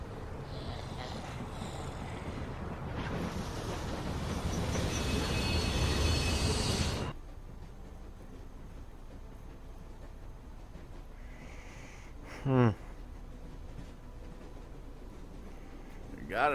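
Train rumbling along in The Walking Dead video game, a broad steady roar that grows louder and then cuts off abruptly, leaving a quieter low hum with a short squeal later on.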